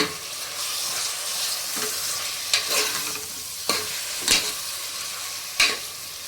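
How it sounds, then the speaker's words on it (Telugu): Minced mutton keema stirred and scraped in a hot pan, a steady sizzle under several sharp spoon scrapes spaced a second or so apart, close and moderately loud with no voices. "కీమా వేసిన తర్వాత అంతా కలిపేసుకోండి మొత్తం"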